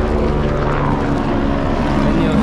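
A helicopter passes overhead in Karbi Anglong, its engine a loud, steady, throbbing drone that fills the short clip.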